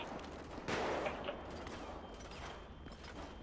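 Suppressive gunfire in GTA V roleplay: faint, distant bursts of rapid shots rattle in short clusters against a low background hum.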